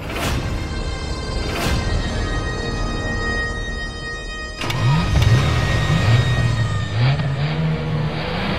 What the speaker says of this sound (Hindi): अरे तो रुका क्यों है, चला ना गाड़ी।